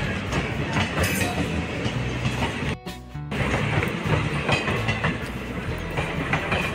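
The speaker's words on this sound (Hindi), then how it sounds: "तो गाइस ट्रेन जा चुकी है" A train rolls past on a railway line beneath bridge construction for an expressway, loud and close with steady clattering wheels, briefly cut by a short gap before the rumble resumes.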